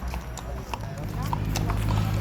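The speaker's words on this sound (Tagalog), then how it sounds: "At ay kayong kabayo ang gisakyan ni Papang oh." Close, regular hoofbeats of a horse carrying a rider around Baguio City, with voices talking through the steady clip-clop.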